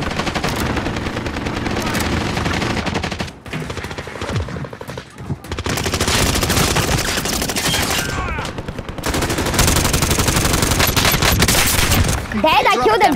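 Rapid automatic weapon fire in Call of Duty Warzone, dense bursts of loud gunshots nearly continuous throughout with brief lulls, close and dominant in the game mix.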